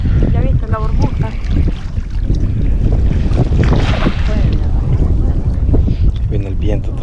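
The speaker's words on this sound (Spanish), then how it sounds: "Viene el viento otra vez." Strong gusts of wind roar over open water during tilapia fishing with a cast net from a boat, a loud constant buffeting across the mic with voices talking throughout.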